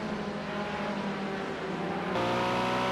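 Racing cars from the Project Cars 2 game on Xbox roar loudly and steadily down a hill at the Sugo circuit during a Group 5 race, their engine tones shifting as one car changes gear.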